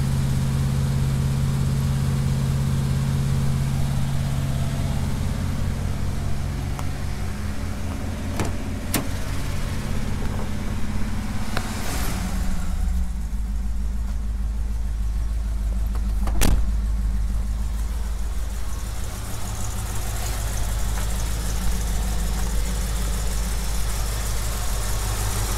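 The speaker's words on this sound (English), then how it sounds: "there's a little bit of a tick coming from this side. I think it's an exhaust leak because this thing still has the original manifolds on it" A car engine idles steadily and close by for the whole stretch, a low even rumble. The engine still runs its original exhaust manifolds with a suspected exhaust leak, and faint ticking may sit within the idle.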